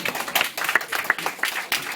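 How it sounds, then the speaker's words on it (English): An audience applauds with scattered, uneven clapping that swells and dips, fairly close, with no voices over it. "I want you to say yes with a hand, with your applause."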